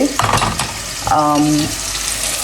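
Food fries in a pan while a layered rice dish with paneer is being cooked, with a steady close sizzle and a brief stirring scrape partway through.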